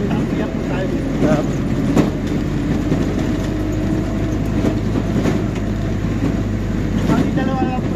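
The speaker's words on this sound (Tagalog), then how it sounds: "Bakit may parang train? May train dito?" A train rumbling steadily past at close range, a continuous low roar with wind buffeting, while people talk over it.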